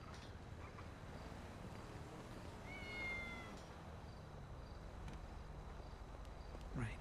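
In a video game, a cat gives a couple of meows over a quiet ambient bed of crickets. The calls are faint and sit well back in the scene, with no talk.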